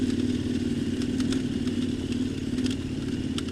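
A motorcycle rides along a faint off-road track on a solo trip toward the Burkhan Bulak waterfall, its engine running steadily and loudly at mid pitch with faint clatter and no talking.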